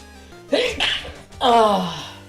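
One close sneeze: a quick sharp intake, then a loud voiced burst, with nobody speaking.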